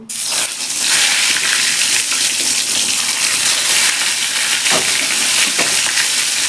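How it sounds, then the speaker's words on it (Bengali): Eggplant slices fry in mustard oil with a loud, steady hiss that rises at the start and holds throughout, broken by a few faint clicks near the end. "এবার বাকি বেগুনগুলো ভেজে নেব।"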